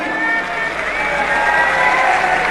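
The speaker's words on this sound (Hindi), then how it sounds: "उनके लिए ताली बजा रहे हो" Large crowd applauding steadily at a big outdoor political rally, a dense continuous wash of clapping with a murmur of voices mixed in.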